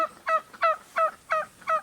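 A duck calls five times in quick, evenly spaced nasal honks, each short and clear, sounding close against a quiet background.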